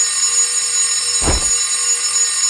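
Alarm clock ringing in the video game Never Island, a loud continuous high-pitched electronic buzz that holds steady throughout, with a brief low thump near the middle.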